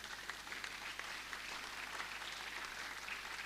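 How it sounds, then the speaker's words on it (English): Applause from an audience at a university freshers' orientation programme, a steady, faint wash of clapping heard from a distance that holds evenly throughout, with no speech over it. "Please give a round of applause to them."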